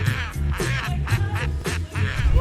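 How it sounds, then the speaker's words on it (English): A sulphur-crested cockatoo gives a run of harsh, raucous squawks in quick succession, loud and close, with no other voices. "The sulphur-crested cockatoo is the wild comedian of Australia."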